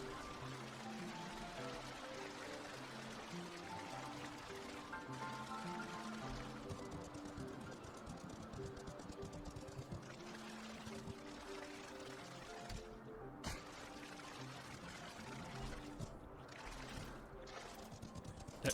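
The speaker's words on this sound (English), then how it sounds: "This crystal appears to be secreting a steady stream of water." A steady stream of water pours from a crystal in the video game Final Fantasy XIV, a continuous splashing flow with game music layered over it.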